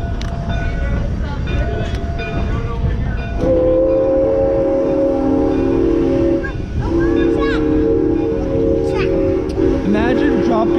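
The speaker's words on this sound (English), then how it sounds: "Finally, the train started moving again." A train rumbling along the rails at a threshing show, loud and close, with a sustained horn-like tone sounding midway and people talking over the steady clatter.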